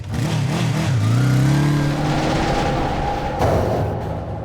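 A motorbike engine revs up loudly and pulls away carrying two riders, the pitch rising then settling into a fading drone as the bike moves off.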